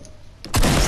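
A headshot gunshot in the video game Fortnite, a sudden loud, close blast that bursts in and holds as a dense roar to the end, after a quieter game background.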